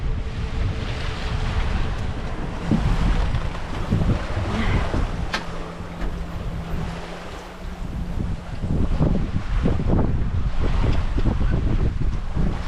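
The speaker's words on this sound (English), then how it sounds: "Sound of the wind generator" A wind generator running aboard a sailing boat at sea, a steady whirring hum within loud wind and rushing water noise, continuous and close throughout.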